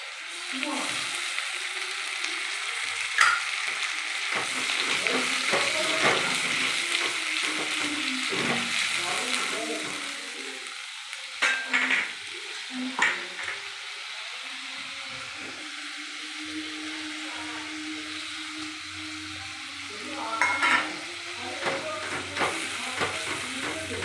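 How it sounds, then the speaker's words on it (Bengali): Spice paste with tomato fries in oil for a vegetarian chana masala, a steady close sizzle broken by occasional stirring scrapes and clatters. "মশলাটাকে ভালো করে তেল ছাড়া অবধি মশলাটা কষাতে হবে।"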